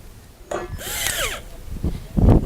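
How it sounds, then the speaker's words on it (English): A clamp on a sailboat ridge pole is tightened with a few close mechanical clicks and scrapes, then a rising rasp and clunks toward the end, heard alone at moderate volume. "We're going to tighten the clamp."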